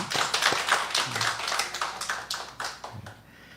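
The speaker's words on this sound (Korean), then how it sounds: "네, 뜨거운 박수로 환영하겠습니다." Church congregation applauding to welcome newcomers during a service: a dense, steady patter of many hands clapping together at close range, fading slightly toward the end.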